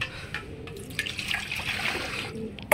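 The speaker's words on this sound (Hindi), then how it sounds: "और ये हम पानी लौट देते हैं" Water poured out for pigeons in an outdoor spot in Moradabad, a light trickling and splashing run with small drips, close by and fairly quiet, ending in a brief louder knock.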